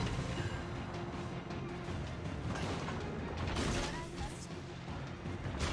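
Naval guns firing armour-piercing shells in World of Warships, a Yukikaze destroyer duel, with dense rumbling shots, mechanical clanks and crashing impacts over several seconds, while a voice talks over the battle.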